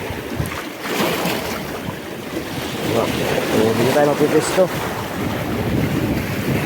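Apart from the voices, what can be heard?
strong waves around a fishing boat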